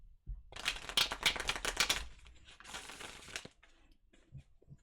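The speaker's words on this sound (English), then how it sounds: "Okay, one more shuffle." A deck of tarot cards is shuffled close to the microphone, a rapid papery riffle of flicking cards for about three seconds, then trailing off into a few soft taps and handling sounds.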